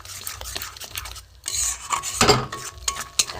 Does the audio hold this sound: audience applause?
no